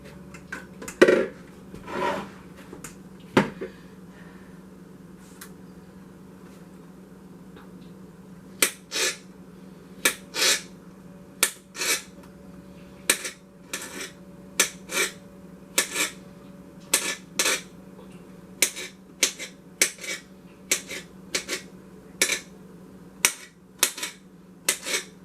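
Knife chopping fresh garden vegetables for salsa on a cutting board, sharp isolated knocks at first, then a steady run of evenly spaced crisp chops, close and clear with no talking.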